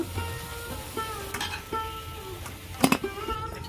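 Semolina boondi for motichoor laddu sizzles steadily in hot oil, with a few metallic scrapes and clinks of a ladle against the pan, close and continuous.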